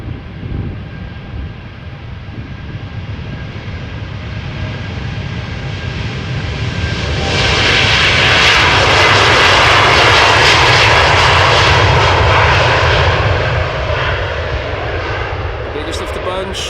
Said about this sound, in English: Next up, Boeing 787-10 Dreamliner outbound to LAX, flight